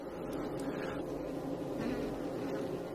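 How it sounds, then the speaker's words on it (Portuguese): A newly emerged honeybee worker buzzes while drying its wings inside the hive, a continuous close, steady droning hum that fills the whole span without pause. "Esta operária, recém-saída da célula, seca suas asas."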